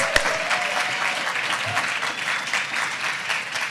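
Audience applause for the event host at a closing-night film screening and Q+A, a steady wash of clapping from a crowd that holds evenly throughout without voices.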